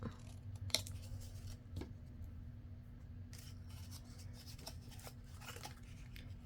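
Scissors cut through paper for an envelope pocket craft project, with several soft snips and rustles close up over a low steady background hum.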